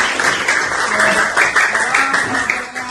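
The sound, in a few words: class applauding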